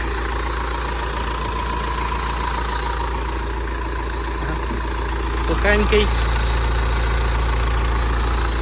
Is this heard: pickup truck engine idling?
yes